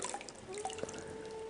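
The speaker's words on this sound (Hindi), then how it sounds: "वही पानी उसी टब में गिरना जरूरी है" Clean water poured from a mug over a foot during a foot-washing ritual, trickling and dripping into a tub below, close and short with no speech.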